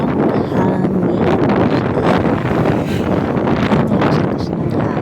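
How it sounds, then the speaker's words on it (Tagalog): Strong wind roars and buffets the microphone steadily throughout, a loud, rough rush with no letup, outdoors on the way to a motorcycle repair shop. "Dito naman sobrang lakas ng hangin."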